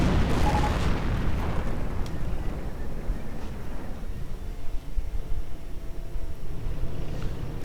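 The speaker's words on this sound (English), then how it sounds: "More artillery, it seems like." Artillery fire in a World War II strategy game: a heavy, booming blast near the start, followed by a rumbling, fading field of distant explosions and softer thuds.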